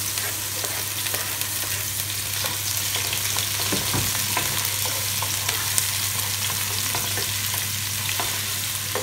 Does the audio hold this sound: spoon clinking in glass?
no